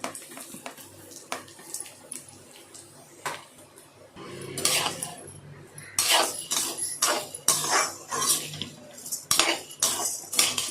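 Urad dal dry-roasts in a pan for idli milagai podi, with intermittent scraping and rattling of a spoon stirring the lentils, sparse at first and then busier and louder for the second half.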